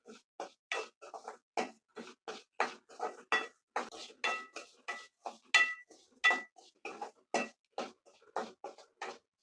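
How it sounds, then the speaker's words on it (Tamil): Semolina roasting in ghee in a pan, stirred with quick, regular scraping strokes of a utensil, about two dozen soft, close scrapes and clinks in a steady rhythm. "நெய் நல்லா மெல்ட் ஆகி ரவையோட ஸ்மெல் வர வரையும் நல்லா வறுத்து எடுத்துக்கலாம்"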